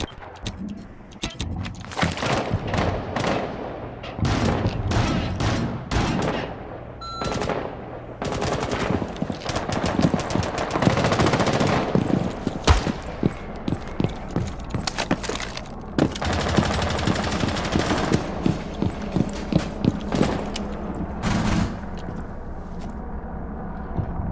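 Gunfire in the tactical shooter Rainbow Six Siege: repeated bursts of automatic rifle fire and single shots, loud and close, with short pauses between volleys across the whole stretch.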